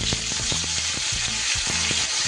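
Panch phoron spices sizzle in hot rice bran oil with salt added, producing a steady loud frying hiss laced with quick rhythmic stirring clicks and pops from close by.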